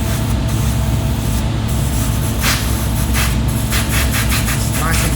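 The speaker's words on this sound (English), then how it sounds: "so put some low pressure in and blow it out and just see how much grime or dirt you get in your hand." Low-pressure compressed air blasting through a motorcycle carburetor on a Honda VFR800fi, a loud, continuous, close hiss that runs unbroken throughout.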